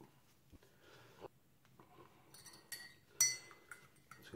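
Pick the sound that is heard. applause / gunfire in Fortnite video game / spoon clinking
spoon clinking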